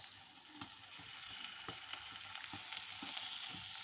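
Crepe batter frying in a pan gives a steady close sizzle, broken by several soft scraping knocks as it is stirred now and then, with no talk.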